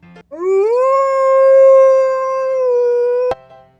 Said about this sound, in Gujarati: વોલ્ફ એટલે વરુ